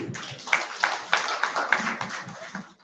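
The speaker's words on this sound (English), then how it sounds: "Can we have a huge round of applause, please?" Audience applause at a panel discussion event, a dense wash of many hands clapping with a few sharper claps standing out, steady for about three seconds before tapering off.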